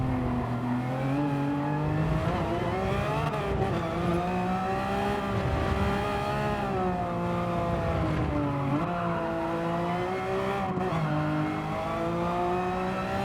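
Porsche 992 911 GT3 racing at Barcelona in Gran Turismo 7, its engine note holding steady and loud throughout with rising and falling revs through gear changes and corners, alone without talk.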